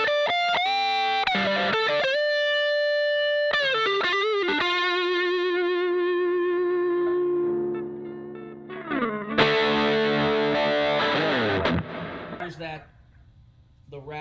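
Electric guitar on the neck pickup through a VHT Special 6 amp with Line 6 M13 effects, playing sustained distorted notes and chords that ring out with heavy, rich overtones, loud and close, with a brighter, denser strummed passage near the end.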